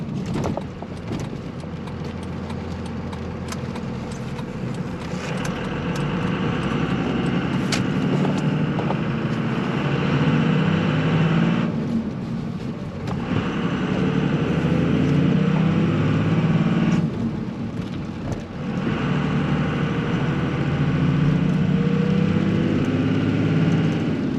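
Car with a manual transmission drives steadily with a low engine drone and road noise, the engine note dipping briefly twice as if between gears, fairly loud and continuous, no voices.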